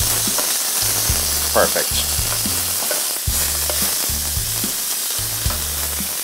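Turkey tenderloins sizzling in a pan, a loud, steady fry with a voice speaking in short bursts over it.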